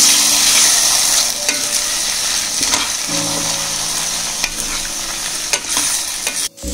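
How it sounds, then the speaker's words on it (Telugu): Eggs frying on high flame in a pan for egg fried rice, a loud continuous sizzle broken by the scraping and clacking of a stirring spatula, close up with no talk. "ఇలా ఫ్రై అయ్యాక దీంట్లో ఎగ్స్ వేసుకుందాం. ఇవన్నీ హై ఫ్లేమ్లో పెట్టుకొని ఫ్రై చేసుకోవాలండి."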